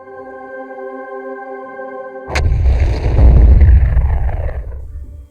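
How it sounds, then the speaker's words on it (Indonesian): A bomb detonating in a film: after a steady tonal hum, a sharp loud blast breaks in and rolls into a deep roaring rumble that fades away over a few seconds. "Akhirnya, James mengaktifkan bom itu."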